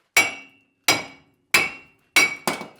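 Hammer blows on a tie rod in the suspension of a 2002 GMC Sierra truck: five loud, sharp metallic strikes, the first four evenly spaced and the last two close together, each ringing briefly.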